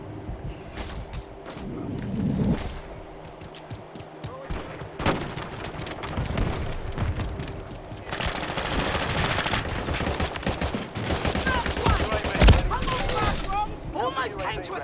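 Rapid bursts of automatic gunfire from Call of Duty: Modern Warfare 3, loud and sustained with dense overlapping shots and impacts, and voices calling out amid the firefight.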